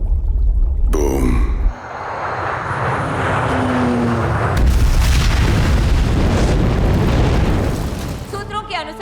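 A deep, roaring bomb blast from a Hindi film swells into a long, loud rumbling boom that fills the scene, with brief sharp effects at the start and end and voices mixed in.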